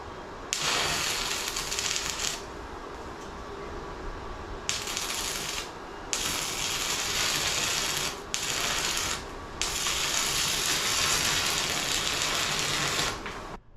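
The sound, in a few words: welding with a small 110-volt stick welder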